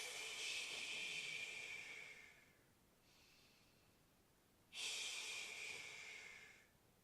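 A slow, steady inhale drawn in through the belly during a stretch, soft and airy and close, followed by a quieter pause before a second long breath begins.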